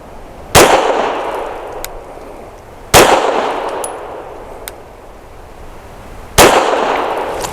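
Three sharp, loud gunshots from a BUL Armory Axe FS Cleaver pistol firing PPU 158-grain subsonic rounds, spaced a couple of seconds apart, each ringing out briefly before fading, with no talking.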